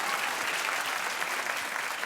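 A television talk-show studio audience claps together, a continuous, even wash of many hands heard from a slight distance and holding steady for about two seconds.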